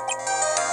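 Cell phone ringtone in the Ace Attorney video game, a short bright electronic melody that plays loud and steady with no voices over it.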